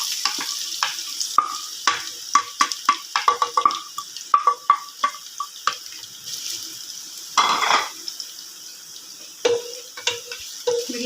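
Chopped onion sizzles in hot oil in a pan for smoked chicken karahi, a steady hiss broken by frequent sharp clicks and scrapes of a utensil stirring, close and fairly loud.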